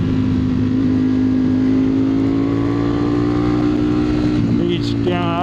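A 2025 Ducati Streetfighter V4S motorcycle rides along, giving a steady, loud engine drone with a constant pitch that barely changes, plus a faint rise in tone near the end.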